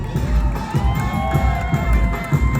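Crowd applauding and cheering at an outdoor concert in the Kropyvnytskyi Dendropark, a loud, sustained wash of clapping with rising shouts and whistles layered over music.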